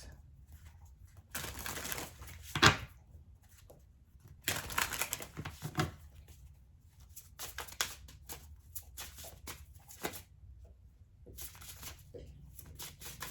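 Tarot cards shuffled and drawn during a reading, giving papery riffles and soft slaps in several bursts with quiet pauses between, close and moderately loud.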